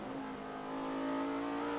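Steady, loud in-car engine drone from a 2010 NASCAR Sprint Cup stock car, a Toyota on a practice lap at Sonoma, holding a strong sustained tone that swells slightly toward the end, with no talk over it.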